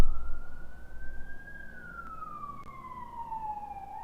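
Ambulance siren passing outside, a loud wailing tone that sweeps up and then slowly glides down as it moves past, with traffic rumble beneath and no speech.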